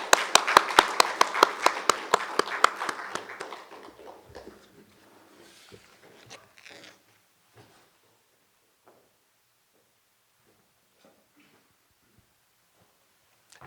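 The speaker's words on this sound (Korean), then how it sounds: "뜨거운 박수로 환영해 주시기 바랍니다." Applause welcoming a speaker at a national leadership forum, a short burst of sharp close clapping from a few hands that thins out after a few seconds, leaving sparse shuffles and near silence.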